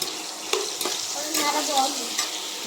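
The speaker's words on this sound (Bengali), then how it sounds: "লবণ দিয়ে নিলাম, হলুদ দিয়ে দিলাম, দিয়ে একটু ভেজে নেবো" Fish sizzling in a frying pan with salt and turmeric, a steady close hiss of hot oil broken by a few sharp pops and spatters.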